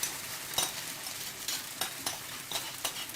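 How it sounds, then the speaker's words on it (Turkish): In an oiled pan, börek batter sizzles softly while repeated light scraping and tapping sounds of a utensil come through at close range. "Şimdi malzememi tavaya dökeceğim."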